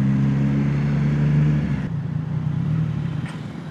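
A Triumph Street Triple motorcycle with an SC Project exhaust revs hard, a loud, steady, throaty drone close by that drops abruptly partway through and settles into a lower, rougher idle.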